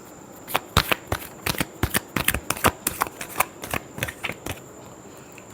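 Tarot cards shuffled by hand in a steady run of crisp, riffling snaps and flicks, close and fairly quiet, with no voices.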